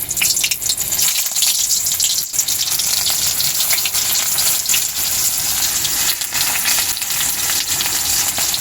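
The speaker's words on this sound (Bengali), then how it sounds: "এবার আমি এঁচড়গুলো ভেজে নেব।" Loud, continuous sizzle of young jackfruit pieces frying in hot oil, with a dense hiss and brief dips as the food is stirred.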